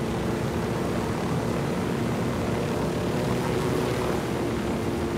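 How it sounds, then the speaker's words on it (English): A helicopter flying in Ghost Recon Wildlands produces a constant, dense rotor and engine roar, loud and unchanging across the span with no voices over it. "The helicopter is the fastest way around the map, definitely."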